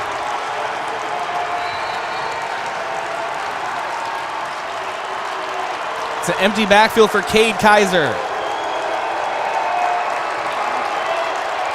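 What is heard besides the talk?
football stadium crowd cheering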